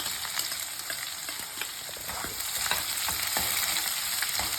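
Onions sizzling in a pan with already-fried peanuts while being stirred, a dense close crackle with scraping strokes and no speech.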